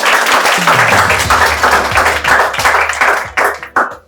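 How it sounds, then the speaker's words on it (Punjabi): Applause from a crowd clapping for a girl after a giddha dance, dense and steady, fairly close, then thinning into scattered claps toward the end. "ਤਾੜੀਆਂ ਲਾਓ ਬਈ ਕੁੜੀ ਲਈ"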